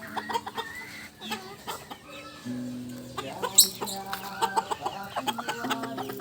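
Silkie chickens cluck and murmur in a steady series of soft, close calls, with a few louder squawks rising over the flock, and no talking.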